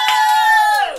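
A loud, sustained single cheer or shout from a quiz-night audience, held steady for nearly a second before tailing off in pitch at the end.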